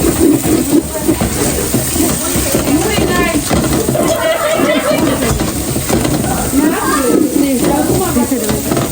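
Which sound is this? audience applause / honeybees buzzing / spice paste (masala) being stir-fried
spice paste (masala) being stir-fried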